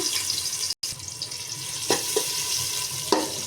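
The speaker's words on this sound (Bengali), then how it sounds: "পেঁয়াজটা এখন সুন্দর ব্রাউন কালার করে ভেজে নেব" Chopped onion frying in oil in a large heated pot for khichuri, giving a steady close hiss with a few sharp clicks and scrapes.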